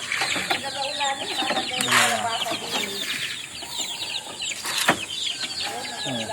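Backyard chickens clucking and squawking in a busy, overlapping chorus at feeding time, with occasional wing flaps and a faint voice in the background.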